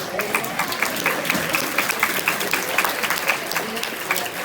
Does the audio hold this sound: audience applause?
yes